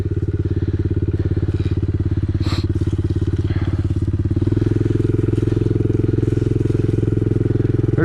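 A motorcycle engine thrums loudly and steadily up close while riding across a rural property, with a brief sharp rattle in the middle and the engine note shifting lower and fuller partway through.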